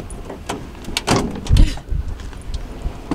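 A car door opening in strong wind on a mountain road on Gran Canaria, with bumps and thuds of the door and body against gusting wind noise, close and fairly loud over about three seconds.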